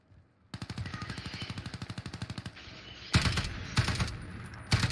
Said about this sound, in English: The recoil on this gun is awful right now.